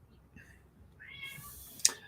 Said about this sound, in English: And my cat is meowing at me because he's a pain in the ass.